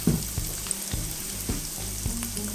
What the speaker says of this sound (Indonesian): Kemudian ini bawang putih dan kemiri yang sudah dihaluskan, saya masukkan.